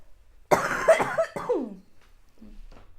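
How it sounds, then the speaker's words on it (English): A person with asthma coughs twice in quick, harsh bursts up close, followed by a brief throaty rasp, then quiet. "I've been having asthma issues, so I've been coughing a lot"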